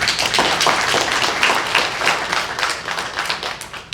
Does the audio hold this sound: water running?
no